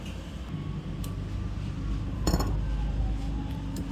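An earring wire being snipped with a small cutter while repairing a pearl stud, one sharp metallic click standing out near the middle against a low steady background hum, with a few faint light taps around it.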